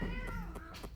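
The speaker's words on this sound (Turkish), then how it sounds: "Arka kediler kavga ediyor." Cats yowling and meowing in a fight somewhere behind the room, a short run of drawn-out wavering cries with a few sharper bursts, fairly close and steady in level with no talk.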